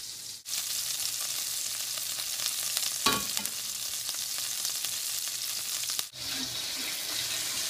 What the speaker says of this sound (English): So that is going to sear on there and seal in the juices